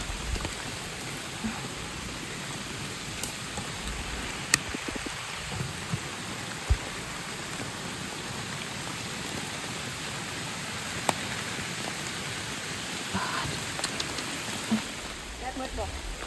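Rain falling in a forest during mushroom picking: a steady, even hiss of drops on leaves and ground, with scattered sharp clicks and knocks from movement nearby.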